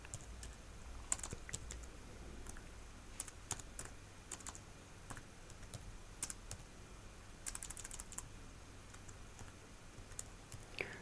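Quiet, steady clatter of keys being typed on a computer keyboard, with irregular bursts of faster presses and brief pauses, fairly close and soft.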